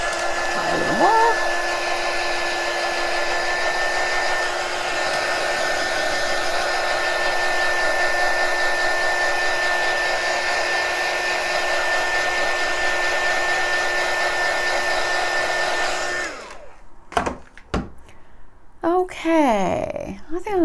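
A hair dryer blows steadily and loudly for about sixteen seconds while drying a marshmallow craft, a constant whirring hum that then cuts off, followed by brief handling noises and a short faint voice.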